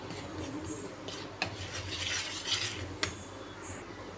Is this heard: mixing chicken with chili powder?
yes